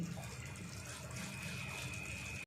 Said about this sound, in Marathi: थोडंसं मी आता पाणी टाकते याच्यामध्ये